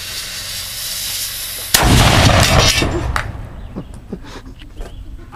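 A black powder charge fires a golf ball outdoors with one sharp, loud boom that rolls out into a decaying rumble and echo, preceded by steady background noise and followed by faint ambient sounds.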